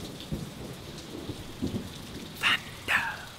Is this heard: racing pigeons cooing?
no